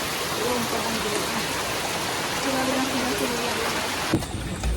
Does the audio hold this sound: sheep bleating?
no